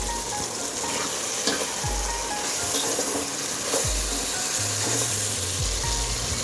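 Chicken pieces stirred with tomatoes, rock salt and chillies in a hot pan give a steady close sizzle and frying hiss, broken by a few soft scraping strokes and low thumps, with no talking.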